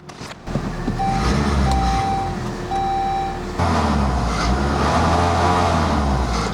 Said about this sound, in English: let's turn on the car and see what we get